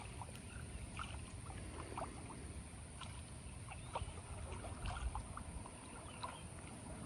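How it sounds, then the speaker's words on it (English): Quiet paddling of a small boat across a pond near the bank, soft water dips and drips over a steady low ambient background, faint and close, with no talking. "I'm trying to paddle real quietly without putting a whole bunch of ripples in the water"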